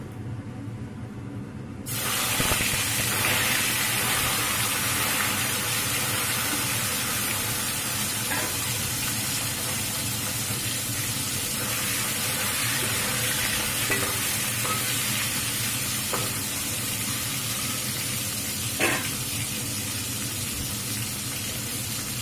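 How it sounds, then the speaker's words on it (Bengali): Three Lata fish frying in hot oil, a loud, dense sizzle and spitting hiss that starts abruptly and runs steadily close up, with occasional faint clinks and no speech. "এখন এগুলোকে তেলে ভেজে নেব।"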